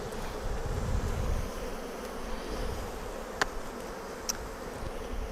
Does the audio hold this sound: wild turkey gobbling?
no